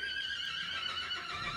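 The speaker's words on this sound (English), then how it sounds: "Yeah, that's a horse." A horse whinnies outdoors during a hair-styling session, a sustained, loud neigh with clear harmonic tones lasting the whole moment, with faint hoof clip-clop underneath and no talking.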